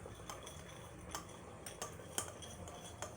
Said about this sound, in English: I'll just mix this together